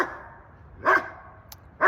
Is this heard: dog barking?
yes